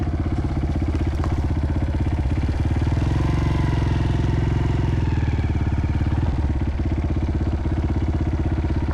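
A 230 dirt bike engine runs steadily on a trail ride, a loud, close, continuous mid-pitched drone with a fast, even firing pulse and slight revving throughout.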